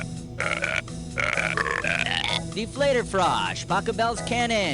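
A woman burps out a melody as a novelty performance, with a string of drawn-out, pitched belches sliding up and down in tune. They are close and loud, broken by short gaps.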